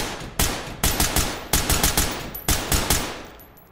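Close, loud weapon gunfire in Ready or Not, fired as a series of sharp single shots and short bursts, each crack followed by a brief decaying tail.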